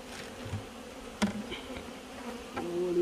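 Bees buzzing around a hive in the hills of Jamaica, a close steady hum with a few louder passes and clicks.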